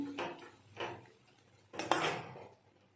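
Chicken masala being stirred and sautéed in a pan for chicken kosha, three close bursts of a spatula scraping and clattering against the pan, with quiet pauses between.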